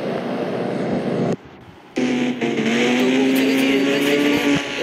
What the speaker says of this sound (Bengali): তো আমি আমার ঘোষ রাইডার বাইক এখন বসে পড়ে গিয়ে রেলওয়ে স্টেশনে যাই।